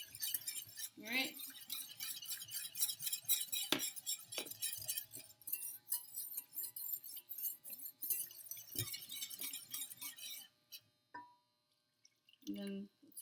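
A utensil stirs macaroni and cheese sauce in a bowl, scraping the sides with steady clinks and taps of metal on glass, fairly close and continuous for most of the stretch before a brief pause near the end.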